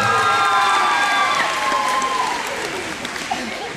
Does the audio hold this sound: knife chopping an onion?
no